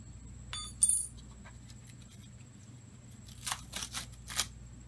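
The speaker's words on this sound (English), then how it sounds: "what I'm going to do next is I am going to cut away this mesh." Snipping as the mesh is cut away from a Bose car speaker from a Mazda Miata: a few quiet clicks early on, then a cluster of short crisp cuts near the end, close and faint over low background hum.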